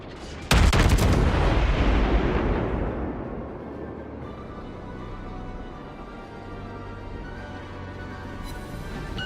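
A Baltimore cruiser in World of Warships fires a salvo of HE shells: one sharp, loud booming blast that rolls into a long, decaying rumble and then settles into a steady low ambient hum.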